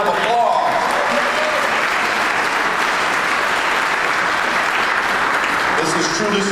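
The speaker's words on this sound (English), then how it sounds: "Let's give them a round of applause." An audience at a union meeting claps steadily and loudly for the event organizers, a full room of applause that carries on throughout without fading.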